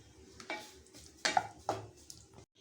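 A tomato pitla mixture being stirred in a pan: a few soft scrapes and clinks of a spoon at uneven intervals, close and quiet, with no talking.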